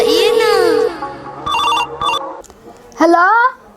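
A telephone rings with a loud, warbling electronic ringtone in bursts, interrupted by brief stretches of quieter sound, in a comedy scene set in Mithila.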